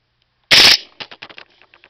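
A King Arms airsoft gun fires a quick rapid burst of BBs, a loud close mechanical rattle followed by a fading series of sharp clicks and impacts.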